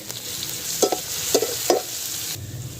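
Garlic paste fries with onions in a pan for a dhaba-style pumpkin and chana dal, giving a continuous close sizzle broken by a few clanking stirs of a spoon.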